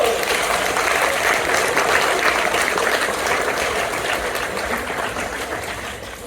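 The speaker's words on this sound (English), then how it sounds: "So let's give them a big round of applause." Applause from an audience at a primary school class assembly, dense rapid clapping at close range that continues steadily and fades slightly toward the end, with no talking.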